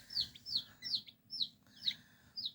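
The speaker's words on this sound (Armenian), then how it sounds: "Եվ հավի, և բադի ճտերը, և լորի ճտերը, սա իրար գլխի են հավաքվել։" Newly hatched chicken, duck and quail chicks from an incubator give six sharp, high peeping chirps in a steady rhythm, close and alone over a faint low hum.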